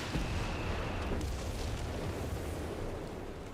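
An artillery barrage in the strategy game Company of Heroes 3, a steady roar of overlapping explosions and rumbling impacts, sustained and heavy throughout without speech.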